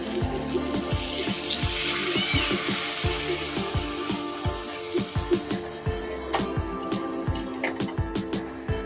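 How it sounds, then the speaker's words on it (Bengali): Water poured into a sizzling pan of chicken muitha mixture, a steady hiss and bubbling with scattered crackles and pops throughout, close and fairly loud. "আমি এর মধ্যে জল দিয়ে দেবো"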